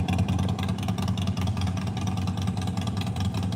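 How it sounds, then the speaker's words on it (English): A loud motorcycle passes by outdoors, its steady, rumbling engine drone holding strong and even throughout without any voices. "I got to hear that loud motorcycle go."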